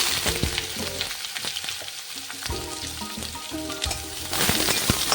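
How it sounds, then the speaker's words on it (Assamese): Cumin seeds fry in hot oil in a home kitchen, giving a continuous crackling sizzle with scattered sharp pops and a few soft stirring scrapes, close and moderately loud. "জিৰাকেইটা অকণমান ভাজি ল'ম।"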